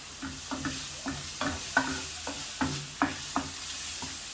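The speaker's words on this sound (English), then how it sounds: "I was adding spring onion as well when I'm frying some of the vegetable" Vegetables and spring onion sizzle in a hot pan during a stir fry while a utensil scrapes and taps in an irregular rhythm, stirring the ingredients close by.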